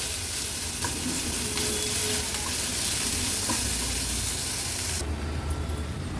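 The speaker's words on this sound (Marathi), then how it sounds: "आता व्यवस्थित कांदा आपल्याला शिजवून घ्यायचा आहे गॅसची फ्लेम मी लो टू वर ठेवते" Onion with ginger, garlic and green chili frying on a low flame, a continuous loud hiss and crackle of oil with faint occasional stirring clicks, and a brighter shift near the end, no voices.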